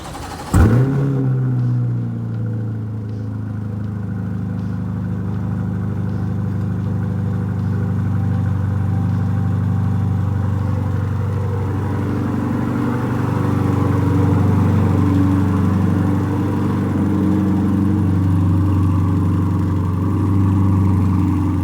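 A Corvette C8 Stingray with center exhaust fires up from cold with a sharp burst, then settles into a loud, steady, deep idle rumble with occasional light revs, recorded close with no talking.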